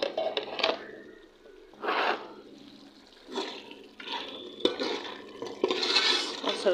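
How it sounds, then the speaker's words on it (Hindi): Meat is browned and stirred in a cooking pot, producing intermittent scraping, sloshing strokes in irregular bursts with quieter gaps between them. "गोश्त मैं भून रही हूँ, गोश्त भून के फिर उसके अंदर डालेंगे"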